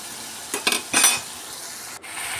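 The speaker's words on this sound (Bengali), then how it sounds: "মশলাটাকে আমি সব ভালো করে পেঁয়াজের সঙ্গে মিশিয়ে নিলাম, দিয়ে এটাকে একটু কষিয়ে নেব" Spice mix stirred with onions in a pan, a steady hiss of frying with three short bursts of spoon scraping against the metal, close and without talk.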